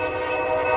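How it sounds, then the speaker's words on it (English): An eastbound Union Pacific freight train's horn blares on a bitterly cold morning of about 6 degrees in Montour, Iowa, a loud sustained multi-tone chord held steadily throughout. "Horn sounds weird when it's this cold."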